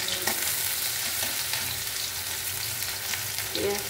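Onions frying in a pan on a gas stove, a steady bright sizzle with occasional scraping and stirring clatter, close and continuous.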